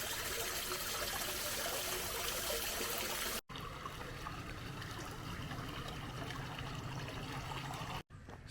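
Muddy floodwater trickles and gushes continuously, a steady close wash of flowing water broken by two brief cuts.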